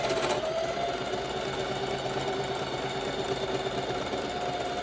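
A sewing machine runs a zigzag stitch on fabric for a one-piece garment, giving a steady close mechanical hum and whir with no pauses.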